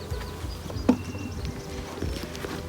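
Honeybees buzz softly at a hive being split, a faint steady hum with small taps and knocks scattered throughout.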